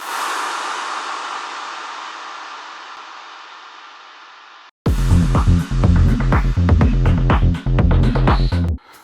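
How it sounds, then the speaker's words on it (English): In music production, a clap sample's long, washy reverb tail fades away, then a dense, loud burst of layered clap and percussive hits follows in quick succession. "I also took this clap, added loads of reverb"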